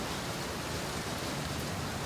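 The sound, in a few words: thunderstorm and rain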